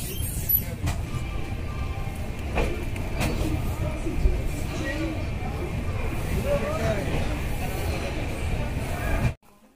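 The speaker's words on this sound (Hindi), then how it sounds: "हमारी ट्रेन लग रही है मऊ जंक्शन के प्लेटफॉर्म संख्या 1 पर।" The Nautanwa Durg Express pulls into platform 1 at Mau Junction with a low, steady rumble and rolling noise, while platform chatter and voices carry over it, before everything cuts out abruptly.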